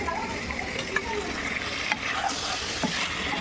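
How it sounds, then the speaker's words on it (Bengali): Goat meat curry bubbles and sizzles in a pot while being stirred, a continuous close hiss with occasional scrapes and light knocks of the utensil. "আমি একটু নাড়াচাড়া করি"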